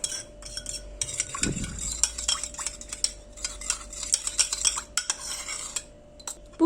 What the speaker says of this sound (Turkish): Şimdi bu malzemeleri iyice karıştırıyorum.